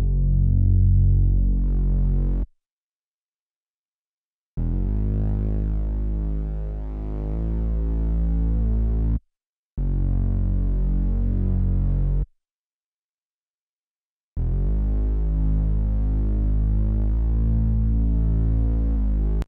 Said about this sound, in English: Notice how we're getting a very buzzy kind of sound.